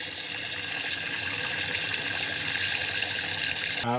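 Warm water pours steadily from a tap, a constant rushing hiss that stops abruptly at the end.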